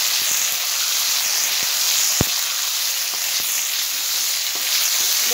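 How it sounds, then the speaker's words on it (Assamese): Steady, close sizzling of jujubes frying in oil with five-spice seeds for an Assamese sweet jaggery pickle, a continuous bright hiss broken by faint stirring taps and one sharp clink of a utensil. "বগৰীখিনি মই ভালদৰে ভাজি ল'ব লাগিব"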